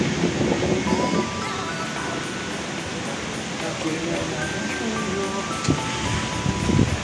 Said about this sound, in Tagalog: Mahangin na dito sa amin sa Subic